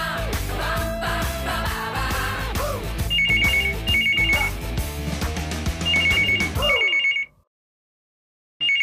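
A telephone rings repeatedly in short electronic trills over a busy music score, the bursts coming in pairs before the sound cuts off abruptly into silence.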